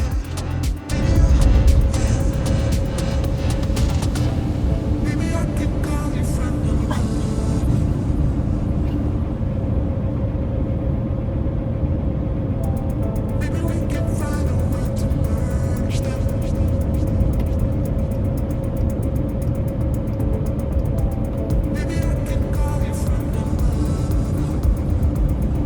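A Mercedes Sprinter diesel camper van drones steadily as it climbs a Colorado mountain pass at about 50 mph, a loud continuous engine and road hum with a voice talking over it.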